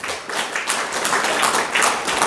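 An audience at a Buddhist dharma talk at Jogyesa temple claps after a poem is read aloud, a steady, fairly loud patter of hands lasting a couple of seconds.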